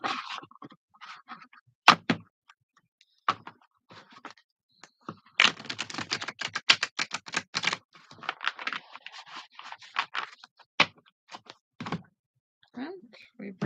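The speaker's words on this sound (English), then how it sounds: "Let those cards fall from the thumbs." Tarot cards shuffled by letting them fall from the thumbs in a riffle, giving quick bursts of crisp, close papery clicks and flutters with short pauses between them.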